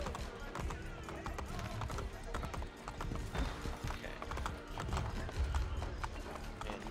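Horse hooves clip-clop in a steady galloping rhythm in the video game Assassin's Creed Brotherhood, with busy background sound throughout.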